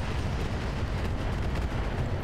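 Artillery fire in the video game Roguetech, a BattleTech mod: a dense, continuous rumbling roar of explosive shelling that holds steady at a fairly loud level for the whole stretch, with no talking.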